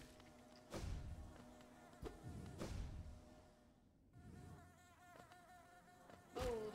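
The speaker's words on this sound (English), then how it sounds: "Oh, that's a lot of bees!" A swarm of bees buzzing in a video game, a continuous droning hum with several heavy thumps and impacts punctuating it, fairly quiet overall.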